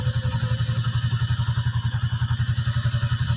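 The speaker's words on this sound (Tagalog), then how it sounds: "Yung third gear mga guys oh. Nakaingay sa kanyang makina." A motorcycle engine runs steadily in third gear, a loud, close, rapid pulsing thrum with regular firing beats and a faint mechanical clatter, no talk over it.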